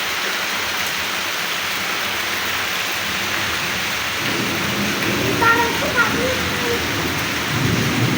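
Heavy rain falls steadily at Cox's Bazar as a father and his children enjoy it, a dense loud hiss that fills the whole stretch and sits under faint voices.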